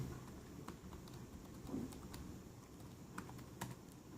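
Keys tapped on a computer keyboard while a password is entered at a terminal during an Ubuntu Server 18.04 setup, a faint run of soft clicks with a few sharper taps over a steady low hum.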